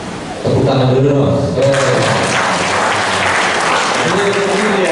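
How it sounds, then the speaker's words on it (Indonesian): After a talk at a leadership bootcamp seminar in Solo, a roomful of people bursts into loud, dense clapping that continues steadily, with a voice speaking over it at the start and again near the end. "Tepuk tangan dulu dong."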